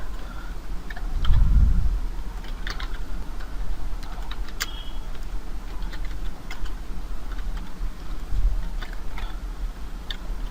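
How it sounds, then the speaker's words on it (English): Java code being typed on a computer keyboard, slow, sparse key clicks scattered irregularly at close range with soft thumps, alone without talk. "Sorry for typing slow."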